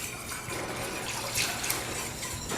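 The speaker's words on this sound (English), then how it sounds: "you can go ahead and pour a whole bunch in at once" Milk pours steadily into a pan in one continuous stream, a constant liquid splash running alone for a couple of seconds with a few brighter spatters.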